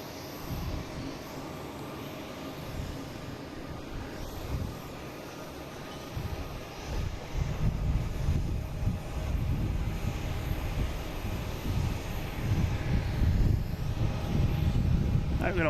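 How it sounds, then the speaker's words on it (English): Alaska Airlines Boeing 737 MAX 9 jet taking off for Portland, a broad low jet-engine roar that builds from a moderate rumble to a louder, sustained thrust, with faint talk mixed in. "we got Alaskan Airlines taking off"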